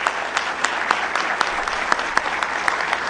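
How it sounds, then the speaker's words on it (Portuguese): Applause from an audience honoring a speaker at an event on Indigenous children's rights, a steady dense patter of many hands clapping close by with no talk over it. "Eu gostaria de pedir uma salva de palmas"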